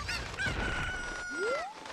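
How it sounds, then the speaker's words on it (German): Chicken (Cucco) in Zelda: Ocarina of Time clucks and crows loudly in a game effect, with a long squawk tone followed by a rising cry, sounding alone without talk. "Oh nein, du sprengst das Huhn in die Luft."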